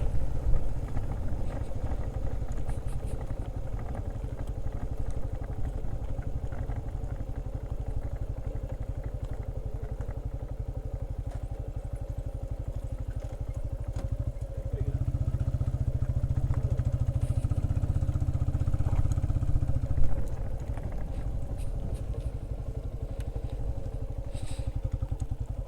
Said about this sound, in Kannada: ಒಂದು ಗಾಡಿ ಇದೆ.